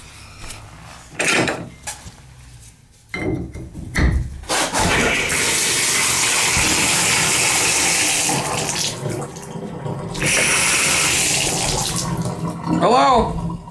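Water gushes from an old bathtub shower tap, a steady loud broadband rush that holds for several seconds after some clunks of the handle, with a brief voice near the end.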